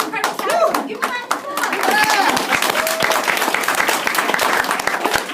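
A children's group at a fine arts lesson claps, starting as scattered individual claps and quickly building into loud, close, steady group applause, with voices talking over it.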